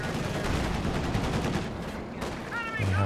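Suppression fire from a flak half-track in the video game Company of Heroes 2, sustained rapid gunfire with dense overlapping shots throughout and a short lull near the end before other battle sounds come in.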